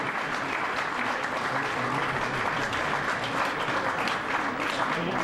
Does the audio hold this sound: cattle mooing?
no